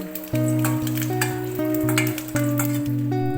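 Six or seven dry red chilies and three garlic cloves fry in a teaspoon of oil for tomato-coconut chutney, sizzling steadily beneath loud background music.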